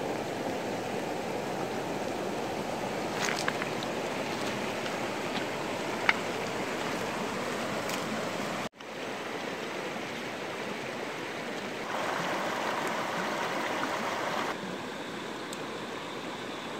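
Flowing river water at a riverside cooking spot, a steady broadband rush that holds at an even, fairly close level, with a brief dip partway through and no talking over it.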